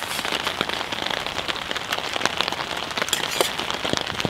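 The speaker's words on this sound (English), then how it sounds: "We're going to make the most of this rain and collect all the runoff off the tarp" Rain falls on a tarp at a riverside bushcraft camp, a dense, steady drumming patter with sharper drops throughout, close and fairly loud with no talk.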